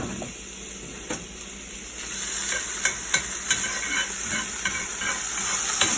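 Chopped garlic sautéing in a hot pan gives a steady close sizzle and hiss, with a few soft scrapes and taps of stirring over the frying.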